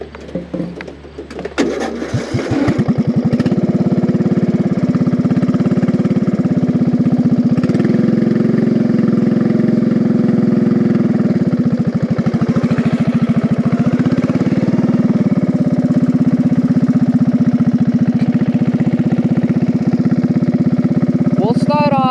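A homebuilt lawn mower engine runs steadily and loud, close by, for most of the stretch after a short start, its drone holding a fairly constant pitch with slight load changes.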